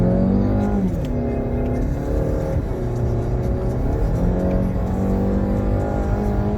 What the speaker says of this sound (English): That's the rev limiter 6200